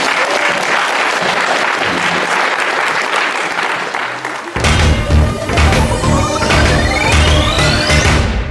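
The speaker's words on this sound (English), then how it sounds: "a huge round of applause for our panel" Loud applause from a San Diego Comic-Con panel audience, then music swells in abruptly midway with a rising tone as the clapping fades.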